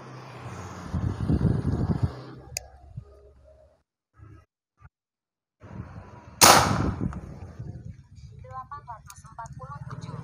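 A Predator Tactical Mini OD 38 airsoft gun fires a single sharp, loud shot partway through, standing out clearly after a quiet pause, with people talking before and after it.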